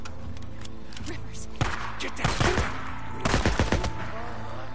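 Enemies fire guns in the video game Days Gone, with loud bursts of rapid gunshots in two clusters, one near the middle and one toward the end, over steady game background noise.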